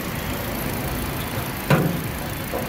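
A 2013 Kia Morning's engine idling under the open hood, a low steady hum at close range with one brief sharp knock partway through.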